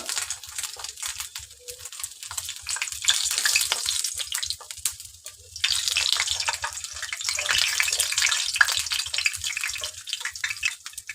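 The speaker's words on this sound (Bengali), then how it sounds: "তেল গরম করে নিয়েছি, আমি এখন পরোটাটা দিয়ে দেব" Mughlai paratha, a Bengali stuffed flatbread, dropped into hot oil and sizzling with a steady, bright hiss that swells partway through, alone with no talk.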